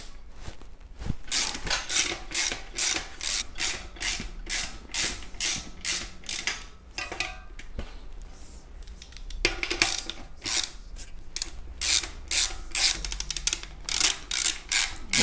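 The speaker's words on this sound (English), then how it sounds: "In this case, I will use a socket wrench. This is 14 millimeter size. So, loosening one side, then the other." A 14 mm socket wrench with a ratcheting mechanism loosens the axle nuts on a bicycle, giving rapid, evenly spaced clicks in two runs split by a short pause, close and crisp.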